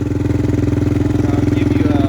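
A 2006 Yamaha TTR-230 motorcycle engine idles steadily close by, a loud, even chugging pulse with a faint voice briefly under it.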